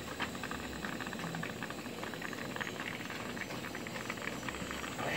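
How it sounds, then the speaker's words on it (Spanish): Water boiling inside a homemade distiller built from a recycled thermos, a steady, dense bubbling hiss with faint rattling, quiet and continuous throughout without any talk. "escucha que está hirviendo, pero hierve arriba en la goma"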